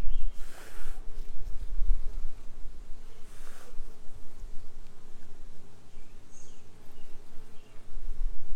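A big cluster of honeybees hums continuously around their queen, a dense steady drone close by, with brief breathy gusts of someone blowing on the bees and no talking.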